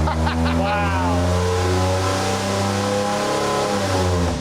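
A turbocharged Ford 300 engine revs hard and loud, its pitch climbing and holding in a sustained roar, while excited voices call out over it.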